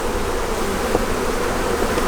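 A dense swarm of honeybees buzzes loudly and continuously around an abandoned hive as it is being moved, a steady close drone with no talking.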